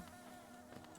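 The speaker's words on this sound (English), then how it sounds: "These bees are annoying." Bees buzzing in the Hollow Knight video game, a steady close insect drone filling the whole moment with no speech over it.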